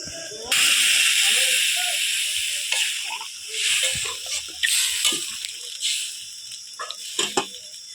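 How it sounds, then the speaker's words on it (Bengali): Water poured onto fried vegetables in a hot pan for a light turmeric fish curry, giving a loud, near hiss that bursts out at once, then fades into bubbling and spitting with a few sharp crackles. "হলুদ ঝোলের সবজিগুলো বেশ ভালো করে ভেজে নিয়েছি তো এবার জল দেব"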